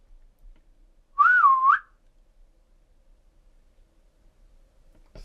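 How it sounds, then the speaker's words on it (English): A single short whistled tune, rising and dipping, rings out clearly against near silence, followed by a faint knock at the end. "maybe it likes whistling."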